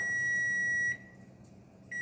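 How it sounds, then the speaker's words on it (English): A kitchen timer for boiling eggs beeps with a steady high electronic tone, pauses for about a second, then starts beeping again over faint background noise. "There's the timer for the eggs."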